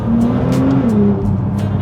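A turbocharged car's engine runs loud and close, a steady drone with a rising and falling pitched whine and short hissing bursts scattered through it, and no voices.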